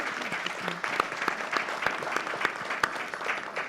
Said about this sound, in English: So can we give our panel a round of applause?